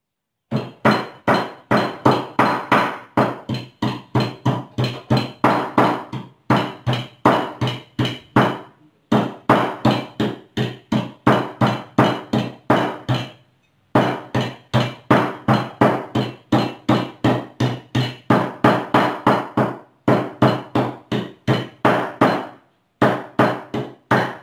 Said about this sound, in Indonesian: Jadi ini kita potong-potong aja sampai halus supaya nanti bisa diaduk sama kelapa supaya rasanya lebih bagus